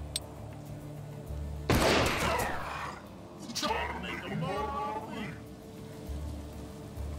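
Gunshots in the game Hard West 2, one sharp loud blast with a crackling tail followed a couple of seconds later by a second rattling shot, over a low game ambience bed, with voices talking around it.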